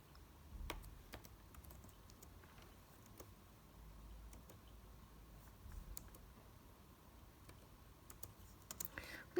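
Text typed on a computer keyboard: quiet, scattered key clicks in short irregular bursts, with a louder clack or two near the end, against a faint room hush.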